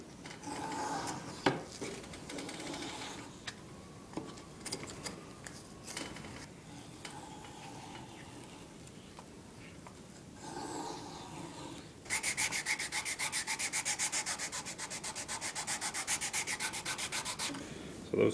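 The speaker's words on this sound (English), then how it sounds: "I'm going to plane this a little bit just to get it smooth." Steady scraping and rasping strokes of a hand plane smoothing wood for a tenor guitar build, repeated in uneven passes, with a brighter, denser shaving sound toward the end.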